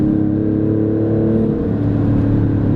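The engine of an Alfa Romeo Stelvio Quadrifoglio SUV holds a loud, steady, deep drone with a slight dip and swell in pitch midway, heard close and alone.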